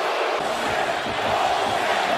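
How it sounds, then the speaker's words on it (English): A football stadium crowd at an NFL Dolphins game roars and cheers in a dense, sustained wall of noise, loud and continuous with scattered shouts rising from it. "This crowd is still going."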